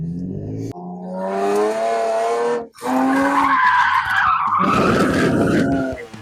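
A stock car with an automatic transmission and open differential is drifting through a flick maneuver, its engine revving hard with a long tire squeal. There is a brief drop in the revs midway, then more loud, close skidding and engine roar.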